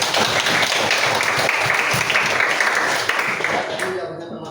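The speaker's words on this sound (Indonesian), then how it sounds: "Tepuk tangan dulu." A classroom of students clapping their hands together, a dense sustained burst of applause that fades slightly toward the end.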